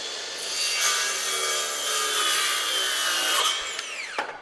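A Skil PWRCore 20 cordless 6 1/2-inch circular saw cuts through wood in one steady, loud, continuous pass lasting about four seconds, then the blade spins down with a brief clatter at the end.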